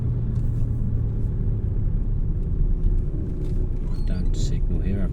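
Car engine idling in first gear while waiting at traffic lights, a low steady rumble inside the cabin with a voice talking over it throughout.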